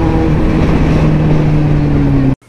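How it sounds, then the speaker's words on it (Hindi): A Kawasaki Z900 motorcycle's exhaust drones loud and close in a steady low rumble, then cuts off abruptly. "पर एग्जॉस्ट नोट अच्छे से कैच कर पा रहा है कि नहीं।"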